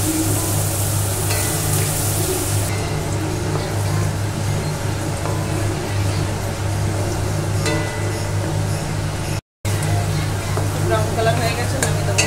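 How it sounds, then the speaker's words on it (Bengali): Food frying in a new wok fills the scene with a steady, close hiss and crackle that runs continuously, while voices talk over it. "এখন ভাজাভুজোগুলো করে নেব"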